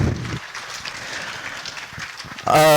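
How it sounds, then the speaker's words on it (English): Crowd applause at a Bigfoot convention panel, a broad hiss of many hands clapping behind a talking voice, with a louder voice breaking in at the end. "give Daniel Benoit a big round of applause"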